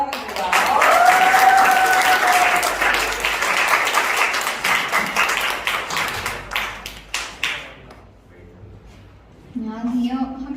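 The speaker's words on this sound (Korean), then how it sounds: "큰 박수로 환영해드립니다." Student audience at a school student council election applauding, a dense burst of clapping that fades out, with voices heard near the start and at the end.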